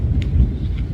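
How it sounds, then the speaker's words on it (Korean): Low, rolling thunder rumbles continuously through a monsoon-season rainstorm, a dense steady roar with a few brief brighter crackles, and no voices over it. "천둥 소리 들리시죠?"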